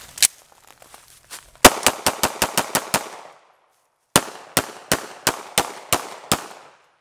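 Shots from a PSA Dagger 9mm pistol ring off steel targets outdoors, two shots then a rapid string of about eight sharp reports, a pause, then another string of about eight evenly spaced shots, loud and close.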